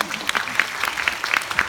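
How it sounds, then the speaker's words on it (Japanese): Audience applause at an Osaka Asian Film Festival Taiwan Night event, a steady patter of many clapping hands filling the room, with a voice faintly speaking underneath. "それはもう一度盛大な拍手お願いできますか。"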